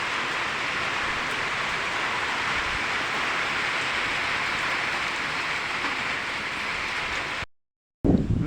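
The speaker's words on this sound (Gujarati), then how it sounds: "જો વરસાદ આવી ગયો" Rain falling on a farm, a steady hiss of drops pattering on surfaces that runs close and even throughout, then breaks off abruptly for a moment of silence near the end before resuming briefly.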